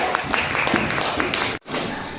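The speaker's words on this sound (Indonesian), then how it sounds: "Oke, tepuk tangan kelompok 1." Classroom applause from a group of students, a steady burst of clapping over about one and a half seconds that cuts off abruptly, with a brief resumption of noise afterward.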